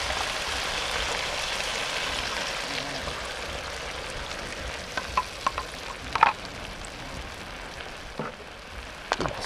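Green curry sauce with clams, coriander and coconut milk bubbles and sizzles steadily in a pan while being stirred, with a few light scraping clicks near the end; no one speaks.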